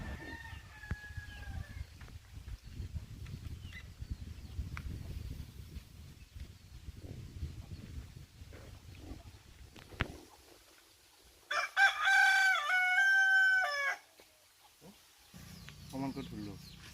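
Rooster crowing and chickens clucking in a rural village yard, with other birds calling; a loud crow stands out near the middle over general outdoor chatter and background voices.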